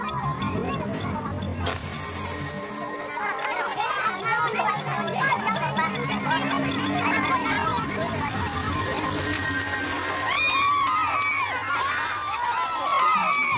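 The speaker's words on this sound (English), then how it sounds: "The crowd roars for Bapate" A crowd roars and cheers for a fighter at a ritual initiation match in Kole, a dense, loud mass of shouting voices that rises near the end with high excited whoops.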